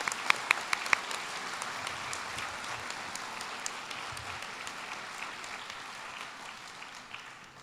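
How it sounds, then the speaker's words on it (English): Audience applause at an outdoor public safety ceremony, a steady broadband clatter of many hands lasting several seconds with a few sharper claps early on, fading slightly toward the end. "let's give them a round of applause"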